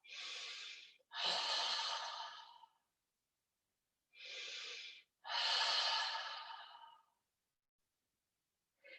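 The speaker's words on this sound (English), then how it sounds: "make 3 audible exhales that you're like you're trying to fog a window" Audible exhales through a cupped mouth, as if fogging a window, during chair yoga: two pairs of breathy huffs, each a short puff followed by a longer one, close and clear with quiet pauses between and no talk.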